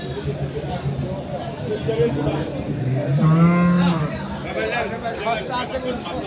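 Dairy cows moo loudly at a rural cattle market in Bangladesh, a long drawn-out low call rising in the middle, over steady crowd chatter and nearby talk.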